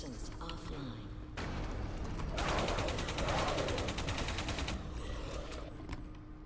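Sustained bursts of rapid assault rifle fire from the video game Alien Breed Impact, loud and dense for a couple of seconds, over a background of game ambience and mechanical noise.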